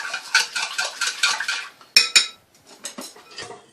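Clattering of dishes and utensils up close, with a sharp ceramic clink of a plate being set down on a rice container midway, then lighter rattling.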